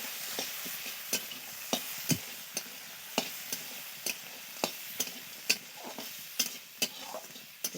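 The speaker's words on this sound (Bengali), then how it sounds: "এবারে ভালো করে এই কাঁকড়াগুলোকে ভেজে নেব, খুব সুন্দর করে ভেজে নেব।" Crabs frying in hot oil with turmeric, a soft continuous sizzle broken by regular sharp clacks of a spatula stirring in the pan, close and fairly quiet, with no voices.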